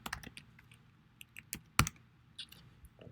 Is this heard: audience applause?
no